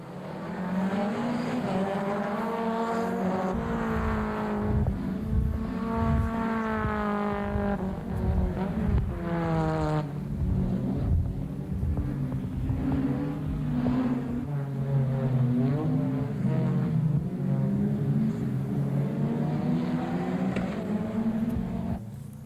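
An Alfa Romeo 75 Turbo Evoluzione IMSA race car on a racetrack, its turbo engine loud and close, revving hard with repeated rising pitch sweeps and brief drops between gear changes, continuous with no talking.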